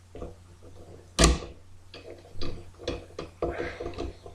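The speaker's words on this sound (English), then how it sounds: "Screw it down." Screwdriver work screwing down a screw on a boiler fan, with one sharp metallic clunk followed by a series of close, rhythmic ratcheting clicks and turning scrapes.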